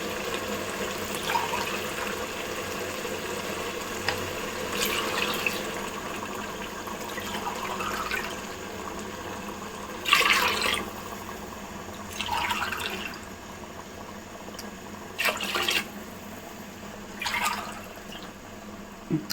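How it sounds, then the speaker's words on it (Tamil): Water poured from a tumbler into a cooking pot for chicken biryani in several short splashing bursts, four or five pours spaced a few seconds apart, close and moderately loud. "இப்போ வந்து நம்ம நாலு டம்ளர் தண்ணி ஊற்ற போகிறோம்"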